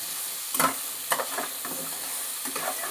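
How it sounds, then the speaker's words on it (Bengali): Pieces of crab frying in a pan give a soft, steady sizzle, broken by a few brief sharper crackles and stirring scrapes, faint and with no talk. "এবার কাঁকড়াটা ভেজে নিয়ে ফিরে আসছি পরবর্তী রান্না"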